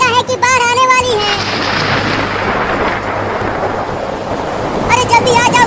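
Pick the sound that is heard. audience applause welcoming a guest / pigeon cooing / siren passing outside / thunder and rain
thunder and rain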